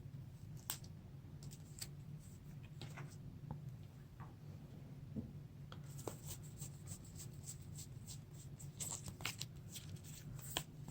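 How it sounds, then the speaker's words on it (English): A deck of cards being shuffled during a tabletop card game, with soft riffling bursts and light clicks spread throughout, growing busier and denser in the second half over a steady low background hum. "Shuffle his deck"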